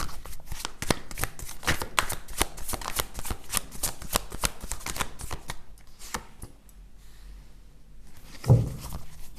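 A deck of tarot cards is shuffled over and over in quick riffling, flapping bursts, close and fairly crisp, settling into quieter handling near the end.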